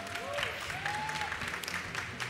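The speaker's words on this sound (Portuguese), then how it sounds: "Uma salva de palmas" Applause from a live audience at a stage event on marketing and creators, a steady burst of clapping that runs through the whole moment with faint tonal sounds in the background.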